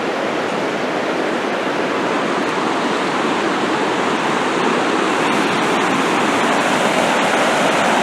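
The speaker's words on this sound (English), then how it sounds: "The flow of the river." A river flowing at night in Takayama, Japan, a loud, steady broadband rush of water that holds evenly throughout with no voices over it.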